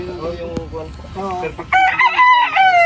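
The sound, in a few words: rooster crowing at a gamefowl farm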